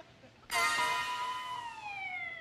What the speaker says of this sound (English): Here comes Dr. Stockman with the ambulance.